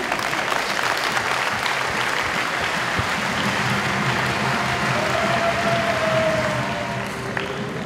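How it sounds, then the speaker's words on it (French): Sustained audience applause at a table tennis exhibition, dense and steady clapping from a large crowd, continuing throughout and fading slightly at the end. "Je vous demande d'applaudir M. Jacques Secrétin et son partenaire."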